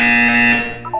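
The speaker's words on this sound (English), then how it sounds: "When you hear the buzzer, look up at the ceiling." Portal 2 video game buzzer signaling a physical wellness exercise, a loud, sustained electronic tone with steady harmonic layers that holds for most of a second, then drops away into a brief lower tail.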